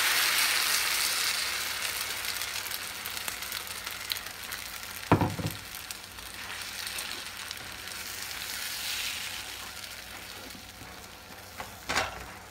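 Kozhukattai flour dough mixture sautéing in a pan after a tempering with green chillies, a continuous soft sizzle with a couple of sharp spoon scrapes, close and fairly loud.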